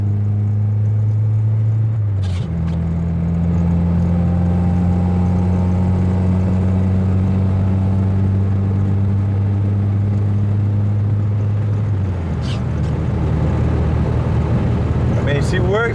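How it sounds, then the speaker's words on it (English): Honda F20B engine idling smoothly in a freshly refurbished car, a steady low hum with a clear tonal drone, the pitch dropping slightly as revs settle midway, continuous and close. "F20B runs really smooth."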